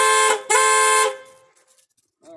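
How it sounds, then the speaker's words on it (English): Car horn on an old car under restoration, sounding two loud, steady honks, one short and one longer, then fading into quiet before a faint voice begins at the end. "Yep, got the horn."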